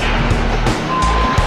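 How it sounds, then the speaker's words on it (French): A small garbage truck at a waste collection and recycling centre in Écorpain, France runs nearby with a loud, steady engine rumble and a few knocks. "il y a un petit camion là qui vient de vider cette zone"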